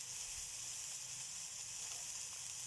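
Food sizzling and frying in a pan on a glass-ceramic hob, cooked without added fat, giving a steady close hiss with no talk over it.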